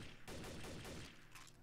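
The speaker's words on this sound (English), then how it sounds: "I hate gunshots. Gunfire?" A short, muffled burst of rapid gunfire in the video game Trouble In Terrorist Town, several shots rattling together at a distance one floor down, fairly quiet.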